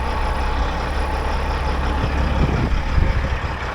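Peterbilt glider kit truck engine idling steadily while backing up, a continuous low diesel rumble with a slight rise near the end; no one speaks.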